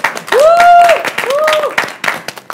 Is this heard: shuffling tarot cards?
no